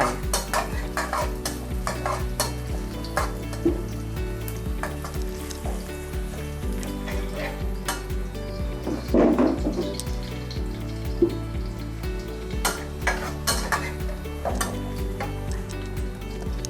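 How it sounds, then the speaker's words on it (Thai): Garlic sizzles steadily in a pan at close range while a utensil scrapes and taps against the metal in an irregular rhythm, with no talking over it. "ผัดให้กระเทียมเหลืองก่อนค่ะ"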